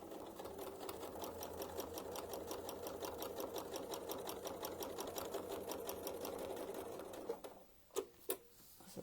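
A sewing machine stitches through leather in a steady, rapid run of needle strokes that lasts several seconds, then stops, followed by a few sharp clicks and knocks nearby.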